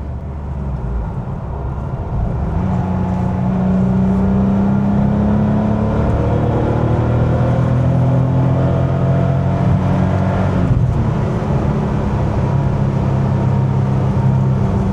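Air-cooled flat-six of a 1988 Porsche 911 Carrera 3.2 with fuel injection, droning steadily from inside the car while driving, pitch rising gradually and dipping briefly near the end, loud and continuous with no talk.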